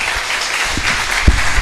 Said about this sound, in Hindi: ताली बजनी चाहिए फिर से।